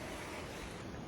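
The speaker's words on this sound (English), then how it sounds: "do you hear the water? That means that we are closing in on the river" Steady, rushing river water flows nearby in the Colombian jungle along a trek to an ancient lost city, a continuous soft roar with no voices.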